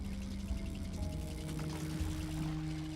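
Water pours steadily in the puzzle adventure game Quern, a continuous soft trickling stream over a low steady hum and faint tonal drones, with no voices.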